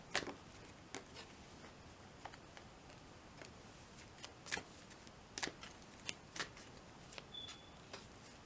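Tarot cards are shuffled and handled at close range: quiet, scattered crisp snaps and riffling flicks come at an irregular rhythm over a soft background.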